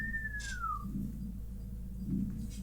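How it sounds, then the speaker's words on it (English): A single clean whistle from a Star Trek episode glides smoothly downward in pitch for under a second, clear and alone over a low, steady hum with faint background noise. "The classic Geordie whistle."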